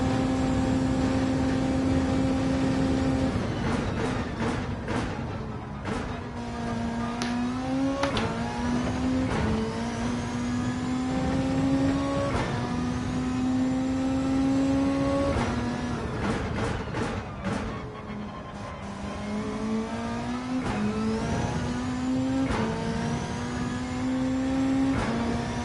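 Race car engines roar through a Gran Turismo 7 race, the pitch repeatedly climbing and dropping with each upshift over many seconds, close and loud, with sharp clicks and other cars' engines mixed in.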